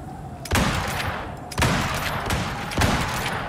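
Gunfire aimed at a polar bear in the Icarus survival game, three loud bursts of rapid shots, each one quickly following the last, close and dominant, with a brief voice between them.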